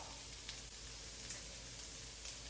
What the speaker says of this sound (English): I've got 2 medium-sized onions that I diced up and put in here. And I'm just gonna let them cook.